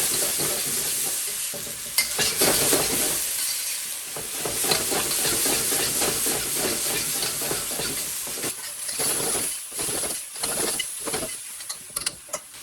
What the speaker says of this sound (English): then you're going to start stir frying